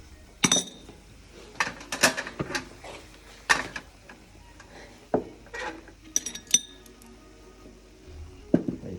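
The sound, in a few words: frying pan moved while flambéing pineapple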